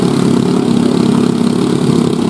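A homemade village helicopter's engine roars steadily as it is revved during a test, a loud, dense, continuous drone with a rough low hum and no pauses or speech.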